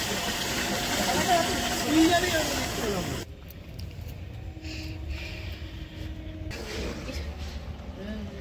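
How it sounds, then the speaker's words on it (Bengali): Water poured into rice that has been frying in ghee for pulao, giving a loud bubbling hiss for a few seconds that drops to a quieter simmer, with people talking nearby. "এখন চাল যাচ্ছে ঘিয়ের মধ্যে, চাল সাদা সাদা হয়ে গেছে, এবার এই জল যাচ্ছে।"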